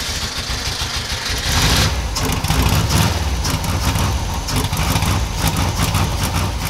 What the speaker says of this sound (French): ça démarre avec un peu de difficulté, mais au moins, le moteur a l'air de tourner rond